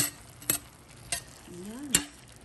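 Mung bean sprouts and beef strips stir frying in a pan, with a low steady sizzle and a few sharp stirring scrapes and clanks spaced out over the short stretch, plus a brief tonal squeak near the end.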